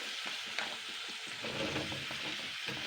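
Cut cucumber tipped into a pan of spices frying in oil, a steady close sizzle and crackle with stirring scrapes throughout, no voices.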